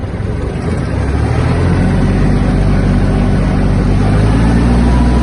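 A Kubota KL-2450 hi-speed Japanese mini tractor runs in a high gear, its engine droning loud, close and steady throughout with a low rumbling hum.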